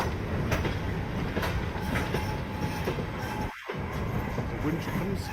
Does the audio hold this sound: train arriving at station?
yes